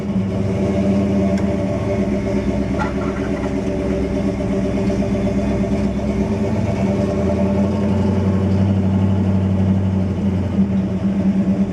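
A 1966 Oldsmobile Cutlass Convertible engine drives down the road with a steady, loud, close rumble and road noise, deepening slightly toward the end, with no talk.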